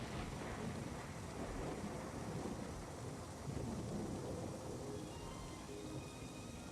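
A thunderstorm rolls on with a steady wash of heavy rain and low, drawn-out thunder rumbling through, broad and continuous with no voices.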